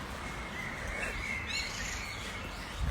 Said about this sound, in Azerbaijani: Quşların səsini eşidirsiniz.